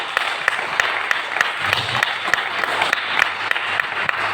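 An audience at a multi-level marketing motivation class claps together, a dense steady patter of many hands running throughout with a few sharper claps standing out.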